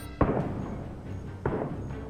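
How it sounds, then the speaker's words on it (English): Two heavy thumping gunshots in the video game Star Ocean: The Divine Force, about a second apart, booming low and fairly loud, with a muffled background hum between them. "It's Imperial gunfire."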